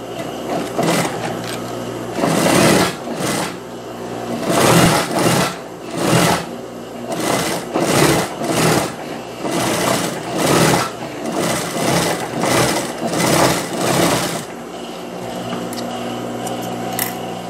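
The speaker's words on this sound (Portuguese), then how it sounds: "Aqui eu vou passar uma costura de pesponto rente," A sewing machine runs close topstitching on a knit jumpsuit in loud, steady bursts of rapid stitching, separated by brief pauses.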